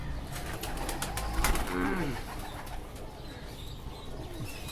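Ambersari pigeons coo softly while wings flap briefly, over a steady rumbling background noise.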